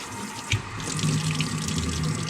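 Water runs steadily from a tap onto coconut coir, close by, a continuous gushing splash with a brief knock near the start.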